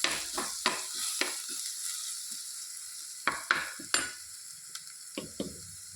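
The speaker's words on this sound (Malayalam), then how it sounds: "നമുക്കിതിലോട്ട് കുറച്ച് കറിവേപ്പില ഇട്ട് കൊടുക്കാം. നന്നായിട്ട് ഇളക്കി കൊടുക്കാം." Curry leaves sputter in hot oil in a pan for a Kerala fish curry, with a handful of sharp spatula scrapes and clacks over a soft, steady sizzle, close and fairly quiet.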